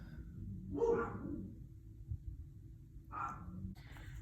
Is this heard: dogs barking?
yes